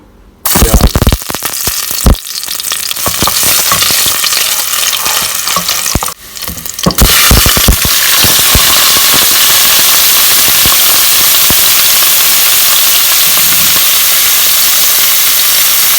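Stir fry sizzling loudly in a very hot pot, a dense, steady crackle and hiss lasting throughout, with sharp spatters early on and no voices.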